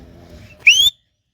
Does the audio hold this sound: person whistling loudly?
yes